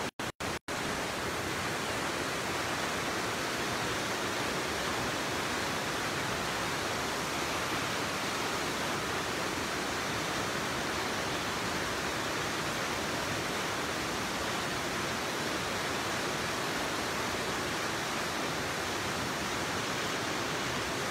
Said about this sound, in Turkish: At İzi şelalelerinin birincisini bulduk.